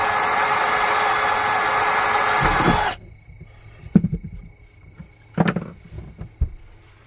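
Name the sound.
drill bit drilling snap holes for RV screen door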